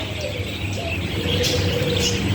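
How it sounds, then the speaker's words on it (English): African collared doves coo softly at a heritage park in Santa Fe Springs, faint intermittent calls over steady outdoor background noise. "These are African collared doves."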